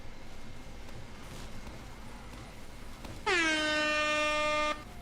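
A loud air horn sound effect fired from a soundboard blares once for about a second and a half, sustained and brassy, cutting sharply through a quiet background hiss; no one speaks.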